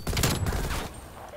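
Rapid bursts of rifle fire from an M16 in the video game Call of Duty Black Ops Cold War, dense and loud for most of a second before fading out.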